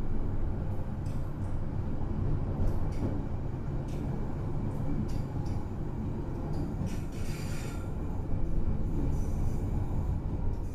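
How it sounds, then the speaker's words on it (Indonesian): Steady low rumble of the Sembrani passenger train moving, with faint rhythmic clatter and occasional higher squeals, continuous throughout, heard from inside a carriage. "kereta api Sembrani yang saya naiki sudah diberangkatkan dari stasiun Semarang Tawang"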